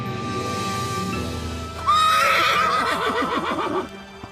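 A horse whinnies loudly and close, a long rising-and-falling neigh in the second half, preceded by lower snorting and breathy horse sounds near a stable or riding area.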